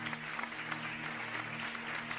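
A church congregation applauds God during a service, a soft, fairly distant spread of clapping with a steady low hum running beneath it.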